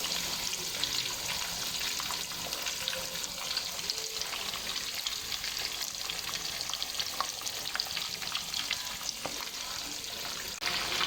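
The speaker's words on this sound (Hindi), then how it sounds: "तीन से 4 मिनट हम एक साइड को फ्राई करेंगे और बिल्कुल लो फ्लेम पे हम फ्राई करेंगे।" Mutton chapli kabab patties fry on a low flame, giving a steady, close sizzle with crackling oil pops throughout and occasional scraping, with no voices.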